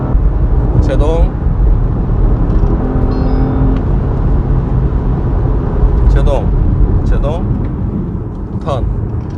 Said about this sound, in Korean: 자, 좀 속도를 내서 고속 코너링 한번 들어가 보겠습니다.